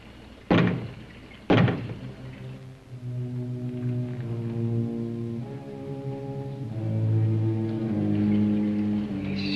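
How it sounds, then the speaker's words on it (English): Two separate heavy knocks on a closet door, about a second apart, ring out loudly before giving way to a low, droning musical score. "Knock twice if I'm not the first."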